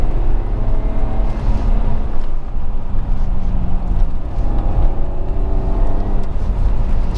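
Car engine fitted with headers revs in a parking lot, a loud continuous motor drone with swelling rises, heard close without speech.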